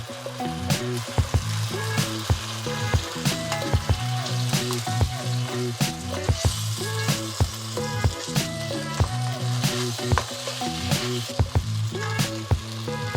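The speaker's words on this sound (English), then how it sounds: "Give it a good stir. I'm going to add the noodles in." Vegan tofu stir fry with noodles added in a pan, a loud continuous sizzle and frying hiss, punctuated by frequent clanks and scrapes of a utensil stirring against the pan, close up with no talking.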